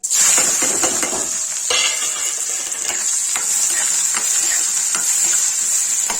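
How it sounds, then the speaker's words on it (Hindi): Onions fry in hot oil in a pan for Kashmiri chole masala, giving a steady, close sizzle with scattered clicks and scrapes of stirring and no talking. "ये तेल गरम हो गया है। मैं अब इसमें प्याज डाल के भूनूंगी।"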